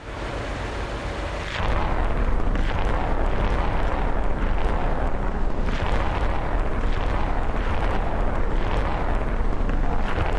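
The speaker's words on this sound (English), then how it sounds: "There's the battery 30 miles away. 36 missiles out." A missile battery in a war simulation game fires a salvo of missiles: a sustained, loud roaring rush that jumps up after a quieter opening and holds steady, with rumbling bursts running through it and no voices.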